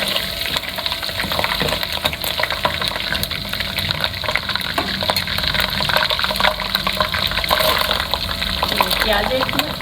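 Onion and bay leaves frying in oil for keema aloo, a steady loud sizzle and crackle that continues without break across the whole stretch, close up, with no voice over it.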